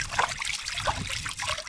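Water trickles and splashes steadily over a freshly caught rock fish at the water's edge on a fishing trip, a close, continuous dribbling sound with small bursts.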